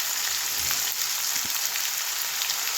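Mixed spice paste sizzles and fries in hot fish oil for a vegetable chorchori, a steady, dense crackling hiss that runs unbroken throughout with no voices.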